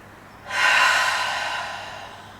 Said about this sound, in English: I'm just going to take a couple of deep breaths here to finish our practice.